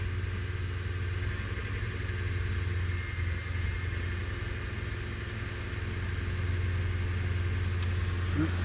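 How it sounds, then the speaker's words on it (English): A car engine idles steadily, a low continuous rumble with a faint mechanical hum, close by and unbroken for the whole stretch, idling high while still warming up. "Still idling high."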